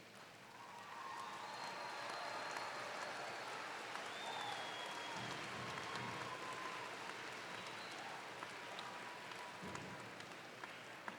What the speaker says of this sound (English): will the graduates please rise and give a round of applause